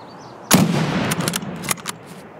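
Sniper gunfire in Escape from Tarkov on the Customs map: a sharp, loud shot cracks out, then several more shots snap in uneven succession at varying distances.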